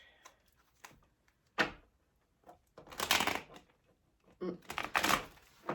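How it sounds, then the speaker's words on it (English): A deck of cards is riffled and shuffled in several bursts, crisp fluttering clatters with short pauses between, close up and fairly loud. "Probably help if I could learn how to shuffle a deck of cards."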